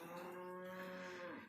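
Cattle on a ranch during a working day moo in one long, steady, deep bellow that holds strong, then fades slightly at the end, loud and close with no talk over it.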